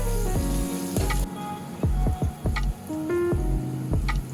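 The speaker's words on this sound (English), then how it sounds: "While my onions is frying, I decided to add this sausage just to cook it a little bit." Close, continuous sizzling of onions and sausage frying in a hot pan, with crackles and occasional sharp ticks and clinks of utensils.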